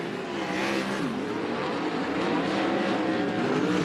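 A dirt-track race car at Bakersfield Speedway powering down the back straightaway, its engine a sustained, loud, rising drone that holds steady throughout.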